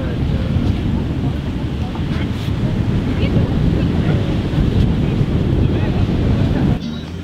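Sea waves wash onto a beach on the Alexandria coast with strong wind buffeting the microphone, a dense continuous roar of surf and gusts throughout, easing slightly near the end.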